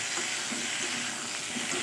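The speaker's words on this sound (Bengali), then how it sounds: "এবার এর মধ্যে টমেটো দিয়ে দিচ্ছি দেখো।" Diced potatoes frying in hot oil as tomatoes go into the pan, giving a steady, close sizzle and hiss that holds at an even level throughout.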